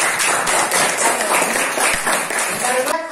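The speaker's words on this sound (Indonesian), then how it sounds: "Presentasi dari Adit, silakan tepuk tangan dulu ya" Classmates clap after a group presentation in an Indonesian classroom, a loud, continuous patter of many hands close by with some voices mixed in before it tapers off.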